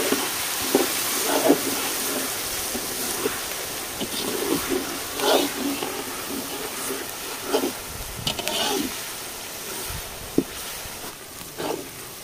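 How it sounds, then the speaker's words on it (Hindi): Onions frying in hot oil sizzle and hiss continuously, with intermittent louder crackles and stirring scrapes rising and falling over the steady background sizzle. "पियाज भल से भाजी सारी एवं रसुण बटा देदेवा।"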